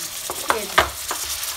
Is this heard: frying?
yes